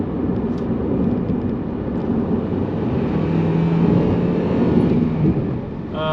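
A 2004 Honda Accord LX sedan with 221k miles cruising on a highway, giving a steady, continuous road and engine drone with tire noise throughout, fairly loud and unbroken, with no talking.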